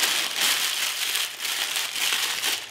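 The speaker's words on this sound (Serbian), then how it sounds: "1 papir za pečenje, prvo ću zgužvati" Sheet of parchment baking paper crumpled by hand at close range, a continuous crisp crinkling with swelling rustles throughout, loud and alone without speech.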